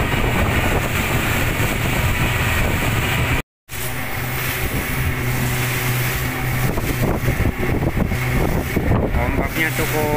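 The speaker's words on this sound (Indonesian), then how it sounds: "Ombaknya cukup besar." Strong wind and heavy waves buffet a rescue boat in rain, a loud continuous roar of wind noise and churning water with an engine rumble, broken by one brief dropout, with voices underneath.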